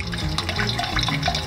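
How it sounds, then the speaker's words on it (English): Water running through a bucket sluice concentrator, a steady trickling and splashing flow heard up close, with no talk over it. "as you can see, the water's running kind of slow here"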